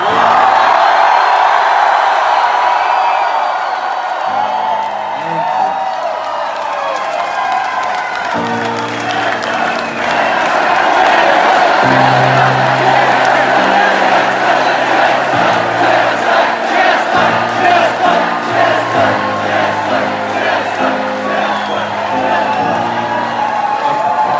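A large crowd at a concert in St. Petersburg cheers and shouts loudly throughout, with whoops and yells over a rhythmic low thumping beat.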